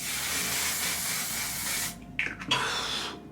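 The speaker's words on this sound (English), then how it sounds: "it's always recommended, apparently, that you set it with setting spray" Makeup setting spray from One Size Beauty misted onto a face in a few short, close, airy hisses toward the end, following a steady hissing background that fills the start.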